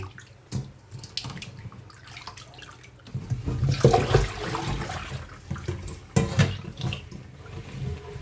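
Tap water runs steadily while catfish are washed by hand, a continuous splashing rush that swells louder midway with sloshing and splatter, close and alone with no voices.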